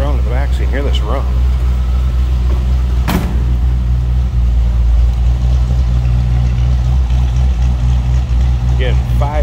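A steady, deep idle rumble comes from a 1955 Ford Fairlane Victoria hardtop with a Fox-body Mustang 5-liter V8, heard close at the rear, with someone speaking briefly over it near the start and end.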